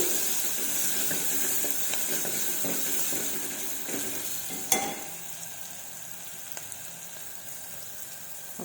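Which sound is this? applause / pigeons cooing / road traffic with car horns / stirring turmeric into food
stirring turmeric into food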